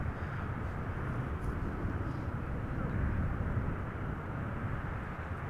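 Steady broadband roar of an Embraer 190 airliner arriving at Amsterdam Schiphol Airport, a constant low rumble heard up close that swells slightly midway and holds loud throughout, with no voices.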